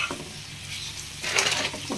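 Mutton pieces fry on high heat in a pan, a bright hissing sizzle that swells suddenly midway, with soft stirring scrapes.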